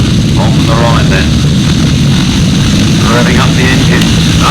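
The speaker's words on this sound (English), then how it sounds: "Revving up the engine, under the task orders." Grasstrack racing motorcycles rev loudly and continuously at the start line of an international grasstrack meeting, a dense steady engine roar with a commentator talking over it.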